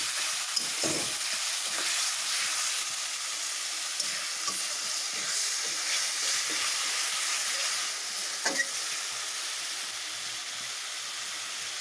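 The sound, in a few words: spices frying and being stirred in a pan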